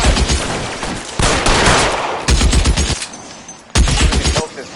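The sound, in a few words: gunfire in a video game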